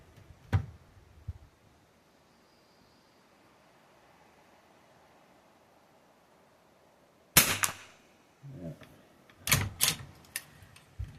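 An Enfield rifle fires at a long range shooting match: a few sharp, loud reports with quiet outdoor stretches between them, the later shots closer together and followed by short clatters.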